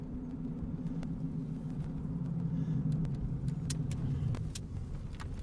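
A 1991 Ford Explorer coasts down from highway speed and pulls over, its engine and road noise a steady low rumble throughout, with faint jingling like keys near the end.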